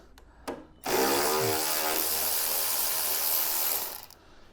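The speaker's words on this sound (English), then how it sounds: "So let's use our tricky ratchet gun." A ratchet gun undoes the front suspension strut bolts on a Land Rover Freelander 2, whirring loudly and steadily for about three seconds after a couple of short clicks, close up and with no talking.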